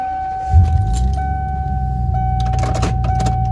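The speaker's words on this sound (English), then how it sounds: "Now it's shifting out of park like it should." A Ford Econoline van, just repaired after being stuck in park, shifts out of park with a low clunk, then the engine runs steadily under a constant chime tone and jingling keys.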